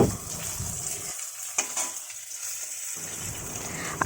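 Fish pieces dropped into a bubbling fish curry with potato in a pan at home, a close sizzle and hiss with a brief quieter dip partway through, then steady frying noise again.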